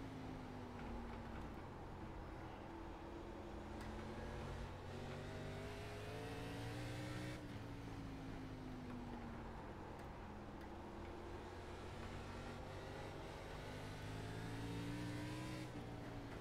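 ARCA stock car engines at South Boston Speedway in a sim race, a continuous loud roar with rising and falling revs as cars run together through the laps.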